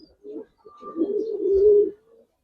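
Pigeons of the Giribaz and Army coloring breeds coo close by, a low throaty warble that swells in one sustained phrase after a couple of short opening notes, with no talk over it.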